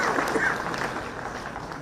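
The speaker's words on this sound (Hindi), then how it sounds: "तालियों की गड़गड़ाहट रुकनी नहीं चाहिए।" An audience at a job-placement ceremony at Bahra University in Waknaghat applauds, a dense, even wash of clapping that fades slightly toward the end.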